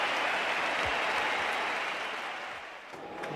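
Cricket crowd at the Sydney Cricket Ground applauding during an Australia versus South Africa Test match, a steady wash of clapping and cheering that fills the whole stretch, dipping slightly before swelling again.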